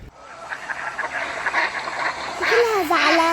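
Ducks quack in a bird garden while being fed, a run of nasal calls building in loudness toward the end, close by, with a person's voice speaking over them.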